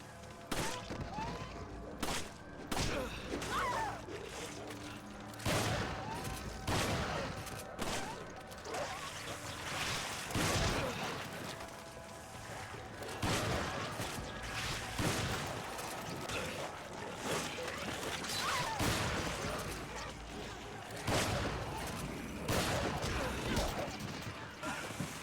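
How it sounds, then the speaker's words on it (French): Shotgun fire in the video game Resident Evil 5, with repeated blasts and mechanical clacks mixed into dense game sound and music, under someone talking. "Fusil à pompe, c'est très bien."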